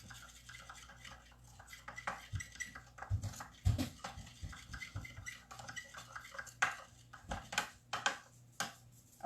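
Swerve sweetener, coconut and cinnamon get stirred together with a knife, giving quiet, irregular scraping and clinking taps against a dish.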